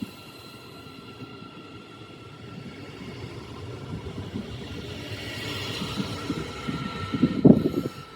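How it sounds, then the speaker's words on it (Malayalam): A train pulling away from a small station on the Rhine, a low rumbling roll that builds steadily and peaks near the end with a brief wheel clank, no voices over it. "നമ്മൾ വന്ന ട്രെയിൻ അതാ പോകുന്നു"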